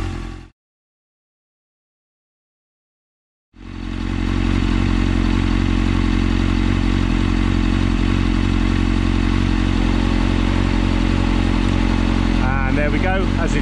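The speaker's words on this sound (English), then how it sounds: "the fan has now kicked in, so the engine is up to temperature" A 1998 Suzuki GSXR750 SRAD motorcycle with its fairings off idles loudly and steadily after a brief cut, its radiator fan running with it in a constant close drone, and a few clattering knocks near the end.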